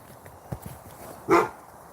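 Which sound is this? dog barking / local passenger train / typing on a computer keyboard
dog barking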